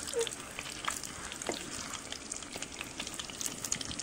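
Eggs fry in a pan with onion and chilli paste, giving a continuous close crackling sizzle dotted with small pops, steady and fairly quiet, with no voices.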